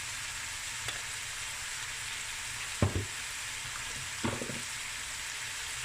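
Spices frying in a pan for a lamb knuckle curry give a steady soft sizzle, broken by a few brief stirring scrapes near the middle and end; no one speaks.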